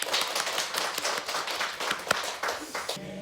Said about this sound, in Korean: 서로 위해서 격려의 박수 한번 할까요?